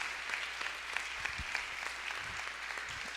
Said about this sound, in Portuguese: carinhosamente com um forte aplauso em nome do Senhor Jesus